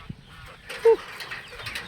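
Chickens in a farm coop give one short, fairly close cluck partway through, with faint rustling and soft background noise around it.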